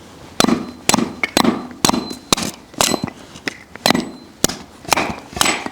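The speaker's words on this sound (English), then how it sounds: "let's get a fresh board and try Ben's favourite axe" A favourite axe chops a fresh, wormy board into kindling, giving a loud, close series of sharp cracking strikes at an uneven rhythm, about a dozen in quick succession.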